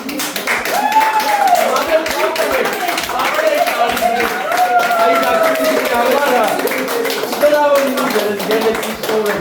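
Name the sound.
clapping hands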